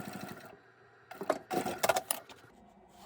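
Sewing machine stitching along the top edge of a handbag, with two short bursts of rapid mechanical whirring separated by quiet pauses, close and moderately loud.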